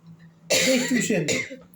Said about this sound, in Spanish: Tomate un mate que te agarró un ataque de tos.